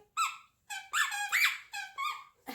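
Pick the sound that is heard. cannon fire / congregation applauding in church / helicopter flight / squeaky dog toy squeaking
squeaky dog toy squeaking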